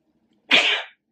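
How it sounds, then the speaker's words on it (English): A single sharp human sneeze, close and loud, bursting out abruptly after near silence and fading within about half a second, with no talking around it. "I gotta sneeze."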